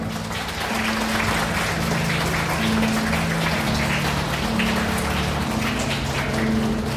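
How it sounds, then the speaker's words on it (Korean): Wedding hall guests applauding the bride and groom, a dense continuous wash of many hands clapping at steady volume throughout. "오늘 예식의 두 주인공을 위하여 큰 박수 부탁드리겠습니다"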